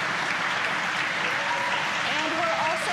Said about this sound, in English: confirmed by the loud cheer behind us here at Mission Control